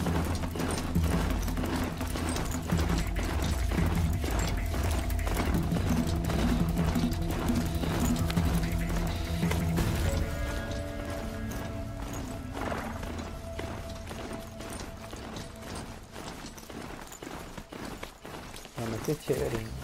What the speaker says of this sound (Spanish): andar a caballito por toda esta ciudad sin tener ningún peligro